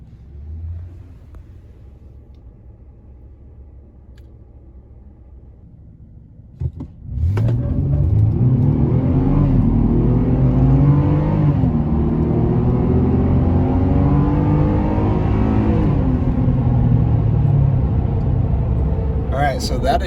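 A Chevrolet ZR2 pickup with 4.56 gears sits quietly, then launches hard from a stop, its engine rising in a loud, sustained surge with gear changes heard as brief dips in pitch as it accelerates toward 60 mph.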